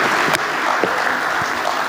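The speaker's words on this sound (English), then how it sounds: "let's give a big happy birthday round of applause" An evening audience at a celebration gives a birthday round of applause, steady dense clapping from many hands that holds level from start to finish, with a few louder claps standing out.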